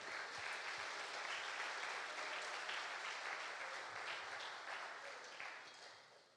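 A church congregation applauding during a service: dense, sustained clapping from many people, a steady wash that gradually tapers off toward the end.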